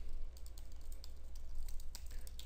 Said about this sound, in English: Now, while I'm typing this out